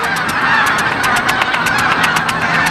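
A flock of greylag geese migrating from Siberia gives a rapid string of overlapping nasal honks, loud and continuous, over a low background hum.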